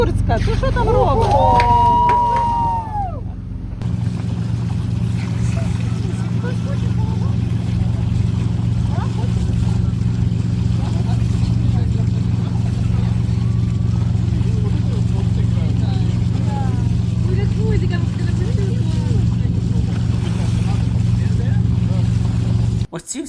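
Tourist motorboats in the Maldives give off a steady, loud, low engine drone that runs unbroken throughout, with a brief spoken voice near the start and faint background chatter.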